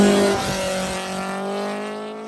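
A drag racing car makes a test launch at the track during an index racing event, a loud engine note that drops in pitch and then holds a steady, fading drone.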